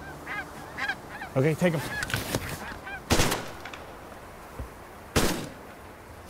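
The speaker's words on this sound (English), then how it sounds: "The snow geese decoying." Snow geese honk repeatedly as a flock swings in over a Hudson Bay goose hunt in Canada, with close, loud bursts of gunfire cutting through twice and someone speaking briefly.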